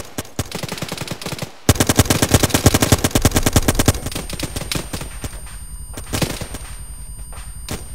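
A military shooter game fills the scene with heavy sustained automatic gunfire: a dense loud rattle of rounds that thins into scattered distant shots and bursts.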